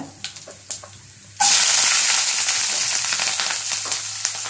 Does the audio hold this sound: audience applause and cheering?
no